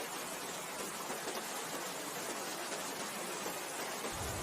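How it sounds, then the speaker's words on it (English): Steady rain falls against glass in a dense, even patter that holds unchanged throughout, with no voices. "The rain's been falling steadily for hours now."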